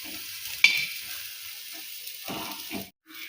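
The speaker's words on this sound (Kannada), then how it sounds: "ನೋಡಿ ಎಷ್ಟು ಸುಡಾಕೈತಿ" Sliced bitter gourd sizzles as it fries in a pan, a steady hiss broken by scraping stirs and clinks from a spatula, with the sound cutting off briefly near the end.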